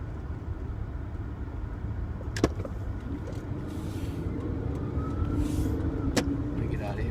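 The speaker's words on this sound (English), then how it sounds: "Man, this is rough traffic." Road traffic heard from inside a car stuck in rough congestion: a low, steady engine and road rumble with a couple of sharp knocks and passing vehicle swells, moderately quiet throughout.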